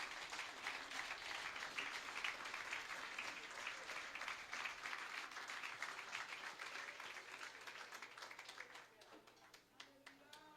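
Audience at a pastor's installation ceremony gives sustained applause, dense clapping that fades toward the end into a few scattered claps, with murmured voices underneath.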